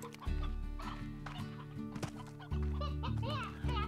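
Chickens and roosters in the Slime Rancher video game cluck and squawk in a busy layered cluster, with bursts of loud calls over a steady tonal game music bed.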